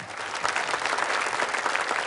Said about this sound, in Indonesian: tepuk tangan sekali lagi untuk Ibu Sahila